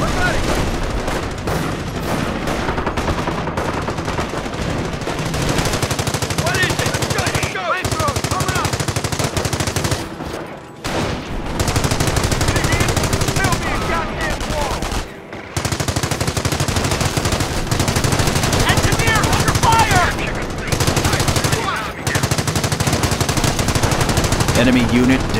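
Sustained machine gun bursts and scattered gunfire fill a World War II battle in the Company of Heroes strategy game, loud and nearly continuous with short pauses, with soldiers' shouted voice lines over the combat.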